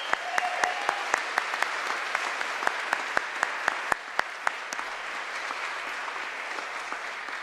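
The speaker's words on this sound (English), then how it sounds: "Give yourself some applause as we also applaud our graduates." A crowd at a law school commencement applauds steadily, with loud, distinct claps standing out near the front and the clapping slowly thinning toward the end.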